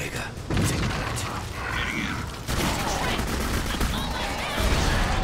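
Gunfire from the horror shooter video game Clive Barker's Jericho, a dense, loud barrage of shots and booms with mechanical clatter, continuous throughout.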